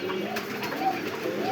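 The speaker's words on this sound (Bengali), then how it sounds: "এই যে জোড়া 3টা বেবি একসাথে কাগজি কবুতরে খাওয়াচ্ছে" Kagzi pigeons feed three chicks in a fancy-pigeon loft while low, gentle coos hum along beneath faint brief chick squeaks, close by and fairly soft, with no one speaking.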